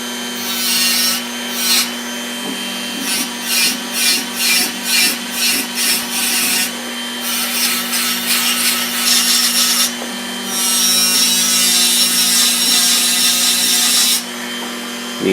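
A rotary tool fitted with abrasive attachments runs at about half speed on a Gerstner 10E Dentis wooden box under restoration, giving a steady motor whine with repeated rubbing, grinding passes that rise and fall in short bursts.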